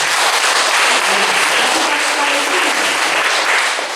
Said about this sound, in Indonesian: Kita tepuk tangan dulu buat Presiden.